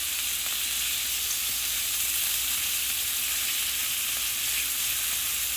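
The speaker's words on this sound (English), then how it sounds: "So I'm gonna continue to grill these, finish cook them" Lamb sizzles steadily on a grill, a continuous close hiss and crackle with no pauses or talking.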